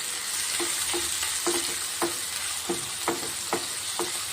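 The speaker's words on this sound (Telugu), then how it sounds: "పెద్ద టొమాటోస్ పడ్డాయి వేసి ఇది ఒక two to three minutes fry అవ్వాలి" Large tomatoes fry in a pan for an aloo curry with munakkaya, a soft steady sizzle broken by a series of regular scraping stirs from a spoon, close and fairly quiet with no talking.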